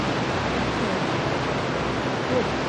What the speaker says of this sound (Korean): 굴포스는 크게 2단으로 이루어진 폭포입니다.